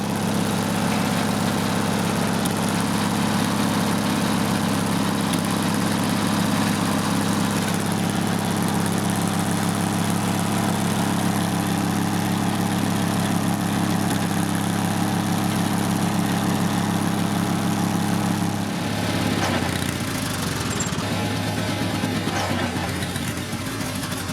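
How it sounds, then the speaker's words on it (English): A car engine with a modified exhaust runs continuously and loudly, a steady rough drone on bad gas that shifts and dips near the end, with faint voices in the background. "that's what happens when you try and do a burnout. But you got bad gas."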